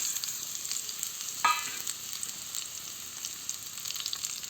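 Raw mango pieces hit a hot mustard-seed and cumin tempering, giving a soft steady sizzle with one brief louder crackle as they drop in, no talking.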